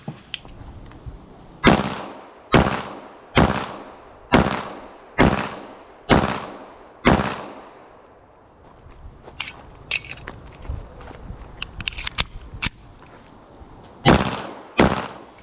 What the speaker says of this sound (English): let's jump out to the range and just kind of go through some quick shots with the thing